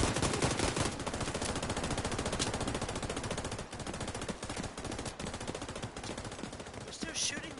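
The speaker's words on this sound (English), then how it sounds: "They're still shooting back there." Sustained automatic gunfire from The Division 2, dense rapid bursts running almost without pause, loud and close, with only scattered faint game sounds and no clear talk.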